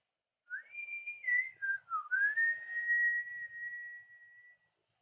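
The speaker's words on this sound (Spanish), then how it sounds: "¿Quién silba?" A person whistles a short, clear melody of several gliding notes, ending on one long sustained tone, alone and fairly quiet in a silent room.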